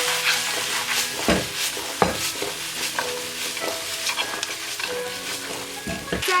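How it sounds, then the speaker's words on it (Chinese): Rice and side vegetables sizzle in hot oil with a little dark soy sauce while a spatula scrapes and tosses them around a wok, giving a steady frying hiss broken by repeated metallic stirring strokes close by. "翻炒1分钟"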